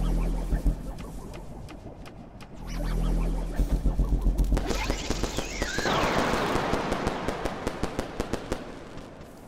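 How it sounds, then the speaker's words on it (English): Rapid firecracker bursts pop and crackle in the Animal Well video game, a dense run of sharp cracks building after a few seconds and rattling on steadily and loud to the end. "Pull up on firecrackers again."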